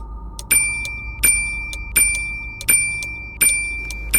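A bell rings sharply again and again in an animated horror story, six bright metallic strikes at roughly even intervals, each ringing out and decaying over a low steady hum.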